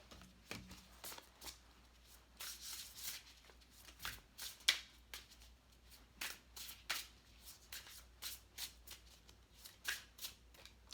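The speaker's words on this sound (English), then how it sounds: "Gonna pull 2 more cards for you guys." Tarot cards being shuffled and drawn, quick papery riffles and soft slapping flicks in irregular bursts, close and quiet against a hushed background, with no talk.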